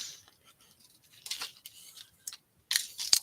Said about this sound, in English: let's just cut this down